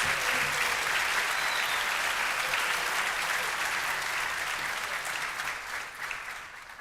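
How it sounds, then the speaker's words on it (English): A room full of people applauding steadily at a baccalaureate service, sustained clapping that holds strong before gradually tapering off toward the end. "I think that deserves a round of applause"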